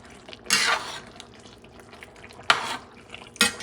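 Braised halal beef shanks stirred in a pot: three short scraping, sloshing bursts of spoon against metal, each under a second, separated by quiet, close and fairly loud.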